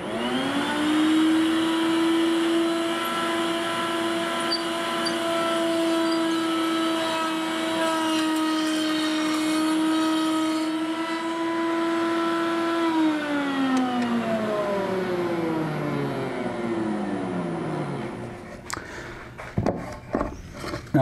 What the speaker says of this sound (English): I'm going to put my circle cutting jig back on the router, and I will cut a couple of pieces